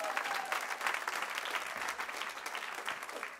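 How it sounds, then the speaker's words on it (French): An audience gives warm, sustained applause, dense and even throughout with no speech over it. "On peut l'applaudir chaleureusement."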